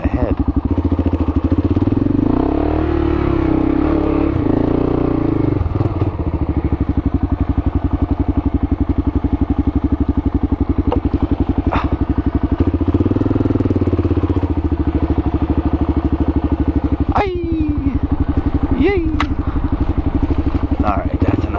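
A Kawasaki KLR650 single-cylinder engine runs loud and close at a steady idle-to-low-rev thump, with brief revs and clattery mechanical noise, a rider talking over it.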